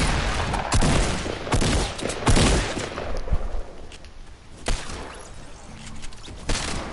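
Gunfire rattles through a Fortnite battle royale match in rapid uneven bursts of loud cracks and thumps, some clustered closely and others spaced apart, with no voices.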